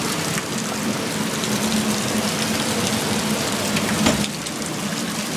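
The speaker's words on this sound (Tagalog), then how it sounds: "malakas ang ulan sa labas" Heavy rain pouring down in a dense, continuous hiss, loud and steady, with a low hum beneath it.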